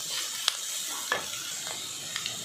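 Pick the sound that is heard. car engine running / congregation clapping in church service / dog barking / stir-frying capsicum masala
stir-frying capsicum masala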